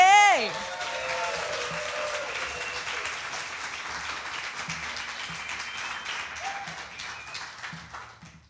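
Audience applause welcoming speaker Denise Rosier at a morning gathering, a sustained wash of clapping that holds steady for several seconds and slowly tapers, with a brief voice at the start.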